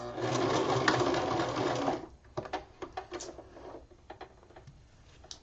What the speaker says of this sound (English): Now at the end, I'm going to backstitch and then cut my threads.